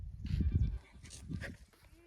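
Goats bleat in a farm field in a short, faint burst of a few low calls, with some quiet background noise around them.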